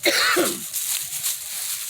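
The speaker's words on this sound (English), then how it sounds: "His cough is not as bad as mine." A single harsh cough close to the microphone, short and forceful, followed by quieter breathy room noise.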